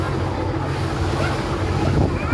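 A passenger launch races along a river, giving a steady, loud rush of engine drone, wind and water noise with no clear breaks.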